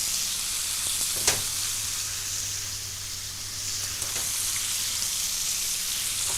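Swordfish steak sizzles on a hot griddle pan, a steady close hiss of frying with a couple of sharp crackles, continuous and alone with no voices.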